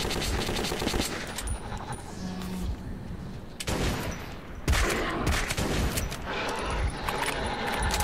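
Automatic rifle fire in Metro 2033, loud rapid bursts of gunfire in several volleys separated by brief pauses, with a short gap and a heavy burst near the middle.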